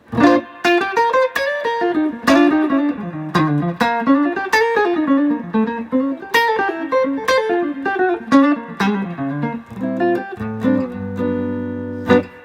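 Electric guitar plays a melodic line with distorted, amplified tone and ringing chords, loud and close, ending on sustained notes.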